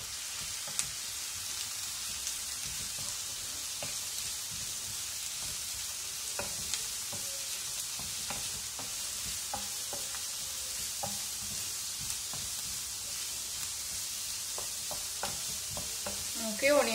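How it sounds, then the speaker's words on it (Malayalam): Chopped onions fry in hot coconut oil in a pan, crackling with a dense, rain-like sizzle and scattered pops and stirring taps throughout, ending with a louder clatter; no voice is heard. "വെളിച്ചെണ്ണ നന്നായിട്ട് ചൂടായി വന്നിട്ട് നമുക്ക് ഇതിലേക്ക് കട്ട് ചെയ്ത് വെച്ചിരിക്കുന്ന ഓണിയൻസ് ചേർക്കാം"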